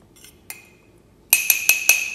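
A spoon clinks against a mug while mixing chocolate mug cake batter with almond flour, a few light taps followed by four sharp, ringing clinks in quick succession.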